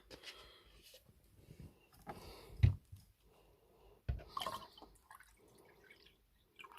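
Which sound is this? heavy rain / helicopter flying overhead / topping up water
topping up water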